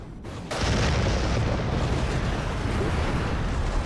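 A SAM battery intercepting an incoming missile in the strategy game ICBM sets off a sudden loud blast, which rolls on as a sustained, roaring rumble with no break.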